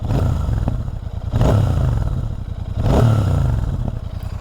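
Royal Enfield Super Meteor 650 twin-cylinder motorcycle with stock exhaust, idling close by with a steady low thrum and two brief revs blipping the throttle, no talk.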